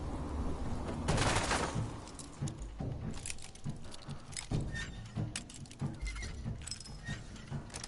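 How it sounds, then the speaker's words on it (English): Gunfire in Fallout 4, with rapid, close bursts of shots and clattering impacts over a busy game soundscape, loudest near the start and then continuing in scattered volleys. "Open fire!"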